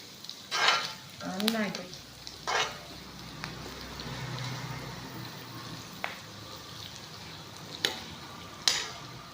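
Curry leaves and pickle ingredients sautéing in a pan, with soft continuous sizzling punctuated by several sharp scrapes and clinks of a spoon stirring, close and fairly quiet, with brief traces of a voice.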